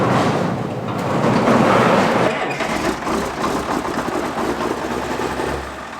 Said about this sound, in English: I don't even think the engine turned over and it started right up.